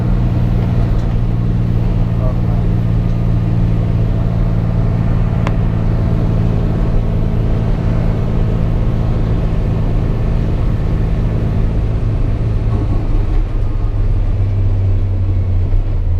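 Inside a shuttle bus rolling through Zion National Park, a constant low engine drone and road rumble fill the cabin, with a brief click partway through and the tone shifting near the end.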